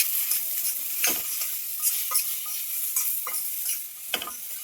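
Salted, oil-free bitter gourd pieces with turmeric are stirred in a pan, giving soft repeated scraping and rustling strokes over a faint, steady sizzle, with no one talking.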